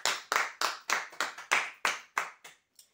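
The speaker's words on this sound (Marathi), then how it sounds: "जोरदार टाळ्या हो त्यांच्यासाठी" A crowd at a prize draw claps for the winner in about ten sharp, evenly spaced bursts of clapping that ring briefly and then fade out near the end.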